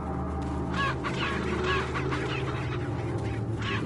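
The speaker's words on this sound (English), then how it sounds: "I'm not purposely just running into chickens to make them scatter." Chickens in the video game Resident Evil: Welcome to Raccoon City cluck and squawk in a busy flurry as they scatter, close and continuous over a low game background hum.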